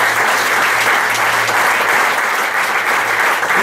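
Loud, sustained applause from a church congregation praising the Lord during a Spanish-language service, a dense, continuous roar of many hands clapping.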